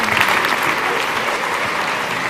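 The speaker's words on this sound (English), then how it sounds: "Let's give them a big round of applause." Audience applause fills a lecture hall on clean fusion energy, a dense, steady clapping from a sizable crowd lasting a couple of seconds.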